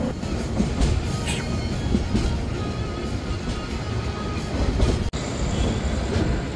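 The Chattogram Mail train runs at night near Dhaka, giving a steady, loud rumble of wheels and carriages with faint rhythmic clatter throughout and one sharp brief dropout.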